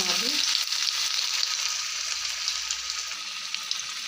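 Garlic and ginger fry in hot oil in a kadai with mustard seeds and cumin, a loud, steady, dense crackling sizzle running unbroken throughout.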